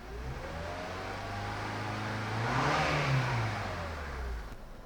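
The engine of a 2006 Honda Element revs up and back down as throttle is applied, rising to a peak midway and then settling. The engine is close and steady, with no talk.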